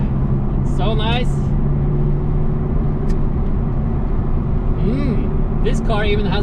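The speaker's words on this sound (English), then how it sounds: "The car we're driving now is a R8 GT. It's a V10 engine, has around 560 horsepower." Audi R8 GT with a V10 engine of about 560 horsepower cruising on a road, a steady low engine hum heard from inside the car, with brief voices talking over it.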